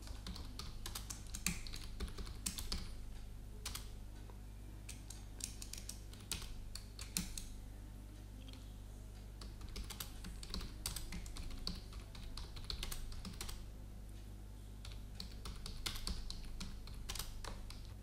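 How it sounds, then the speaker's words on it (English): Steady typing of a message on a computer keyboard, a fast irregular run of key clicks over a low hum, faint and close with no talk. "Now you can type the message to be communicated at the status bar."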